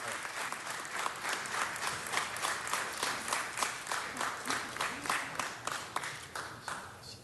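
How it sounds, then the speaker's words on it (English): Sustained applause from an audience at a Los Angeles city council meeting, steady rhythmic clapping filling the room at moderate volume for several seconds with no speech over it. "Please give her a big round of applause."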